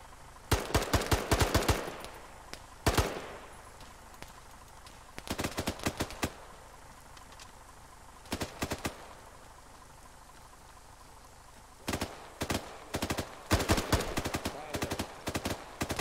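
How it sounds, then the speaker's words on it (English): Bursts of rapid automatic gunfire in the video game Arma 3, in short rattling volleys separated by quieter gaps, loud and close. "I love the gunfire sounds."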